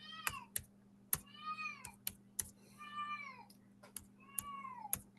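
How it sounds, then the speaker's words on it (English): A cat meows three times in drawn-out cries, over a low steady hum and sharp keyboard clicks. "Can you hear my cat?"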